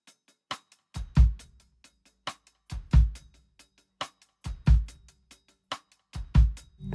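Drum kit groove placing a pair of 16th-note bass drum kicks after beat two under a steady hi-hat, the double thumps recurring evenly across the bar, close and with no speech.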